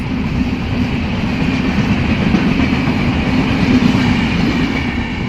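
Twin WAG9 electric locomotives haul the Dibrugarh–Kanyakumari Vivek Superfast Express past, a loud, steady rolling roar with continuous clickety-clack of wagon wheels on rail, close by throughout.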